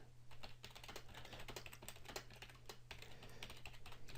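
Fast, steady typing on a computer keyboard, a continuous stream of light key clicks with a low hum underneath.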